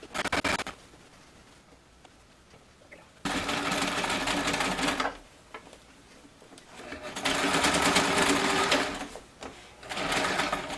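A home sewing machine stitches over cording on a pillow cover in several bursts of rapid mechanical whirring, with quiet pauses between runs, close and fairly loud with no talk.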